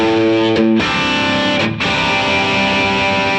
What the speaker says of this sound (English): So this would be the Marshally type thing.